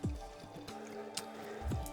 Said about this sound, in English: Bang into the ice water.